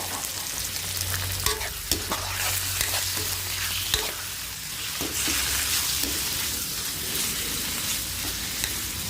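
Chicken breast fries with onion in a hot pan, a loud continuous sizzle broken by repeated clacks and scrapes of a spatula stirring, with no talking.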